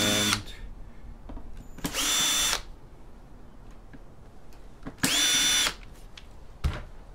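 Power drill removing Torx screws from an Apple iMac A1225, with two loud whirring bursts of about a second each plus shorter buzzes and clicks between them, close up.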